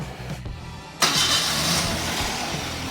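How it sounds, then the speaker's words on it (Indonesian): A 2010 Toyota Avanza S automatic engine runs close by, settling into a steady, smooth idle hum after a sudden jump in level about a second in, with no talk. "Ini suara mesinnya halus, standar normal, tidak ada suara-suara kasar."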